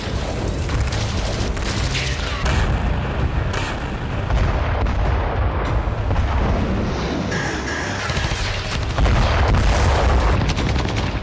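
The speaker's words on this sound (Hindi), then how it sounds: "रूस डोनेस्क में फाब 500 बम से हमले कर रहा है।" FAB-500 bombs and artillery strike Donetsk in a long, dense barrage of loud booms, blasts and rumbling detonations that overlap continuously, with sharp cracks scattered throughout.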